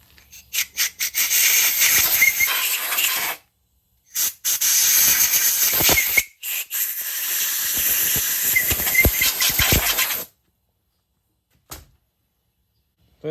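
Compressed air blasts out of a 351 Cleveland engine block in several loud hissing bursts, separated by brief silences, with a couple of short puffs at the end.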